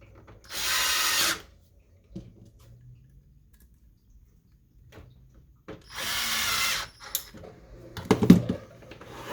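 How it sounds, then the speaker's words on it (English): Electric screwdriver driving screws back into an HP Officejet 8100 printer, two separate whirring bursts of about a second each, separated by quiet handling, then a cluster of clicks and taps, close and with no talking. "We're going to put the screws back."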